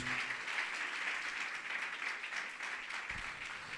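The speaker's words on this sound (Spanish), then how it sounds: "Vamos a darle palmas de alabanza al Señor." A church congregation claps together in praise during a service, a steady, dense wash of applause that holds at an even level throughout, with no voices heard.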